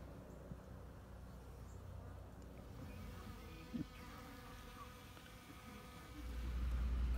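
Honey bees hum steadily around a hive that is being taken out, a faint, continuous buzz with no break. A low rumble swells near the end.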